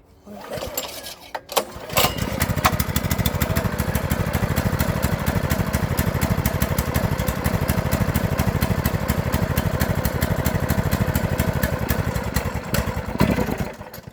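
A Predator 212 small gas engine fires up after a pull start and settles into a steady, loud, close running drone with a fast even putter that holds for about twelve seconds before easing off.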